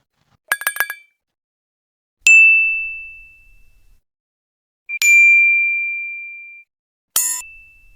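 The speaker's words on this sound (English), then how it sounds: "now you look for the notification that will match" Notification sound effects from the CapCut sound library play one after another: a quick jingle of several short chimes, then three separate ringing dings, each bright and clear with a long decaying tone and silence between them.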